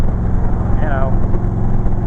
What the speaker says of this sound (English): the exhaust on this thing just sounds amazing